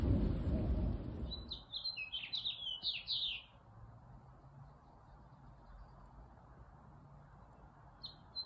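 A midsummer monsoon thunderstorm in Tucson, Arizona opens with a loud, close thunder rumble that fades into steady soft rain, while birds chirp brightly in a quick burst and again near the end.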